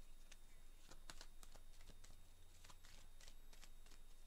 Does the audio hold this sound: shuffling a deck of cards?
yes